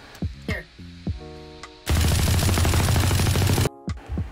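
Valorant gunfire wallbangs through a box on the Haven map: a loud, continuous rapid-fire burst lasting about two seconds. Sharper game effects and tonal cues come before and after it.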